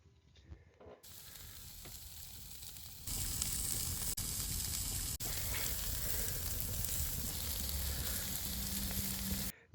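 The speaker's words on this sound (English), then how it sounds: "we're just going to pop them on the grill and watch as they" Hamburger patties sizzle loudly on an outdoor grill, a steady dense crackle that swells sharply about three seconds in and holds to the end, with two brief dropouts.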